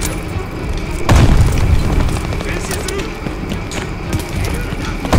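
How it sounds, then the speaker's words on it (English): A grenade goes off in the Call of Duty Vanguard campaign, a loud, deep boom landing about a second in and rumbling on under busy game sounds and someone talking. "Another nade, dude. What's up with the nades?"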